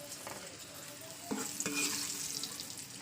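Red amaranth greens chochchori sizzles steadily in hot oil in a pan, with a few clinks and scrapes of stirring over the continuous close frying hiss.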